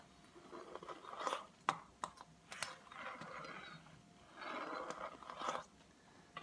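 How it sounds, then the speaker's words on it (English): A sharpened knife is pulled through a knife sharpener, giving faint, close scraping strokes with small clicks and crunchy grinding pulses spread over several seconds. "Once you get the knife really sharpened,"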